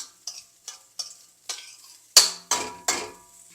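Ingredients roasting in ghee for traditional Diwali porivilangai urundai sweet balls, with a spoon stirring in short scraping strokes about every half second over a soft sizzle, close and clear with no talk.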